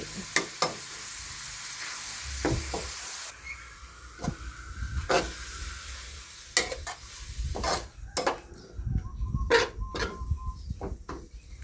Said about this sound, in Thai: ผัดให้หอมค่ะ ให้หอม ๆ ไปเลย